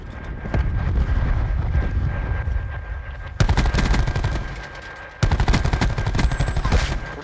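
Gunfire in a Call of Duty multiplayer match, loud rapid automatic bursts rattling in quick succession, with a louder sustained burst near the end.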